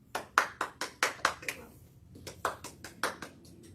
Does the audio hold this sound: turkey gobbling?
no